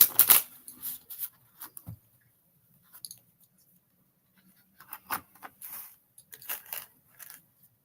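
Old linen-finish playing cards are handled and shuffled in short, separate bursts. Quick close riffles and soft clicks are scattered between stretches of near silence.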